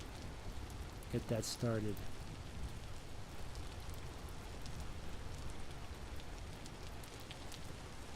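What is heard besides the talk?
rain falling outdoors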